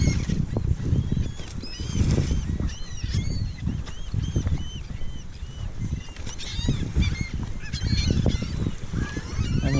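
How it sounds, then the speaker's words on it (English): Seabirds calling along Fort DeSoto East Beach, where many pelicans gather, with a dense continuous chorus of honking, squawking cries over steady wind and surf, loud and close. "But there's birds all along the beach."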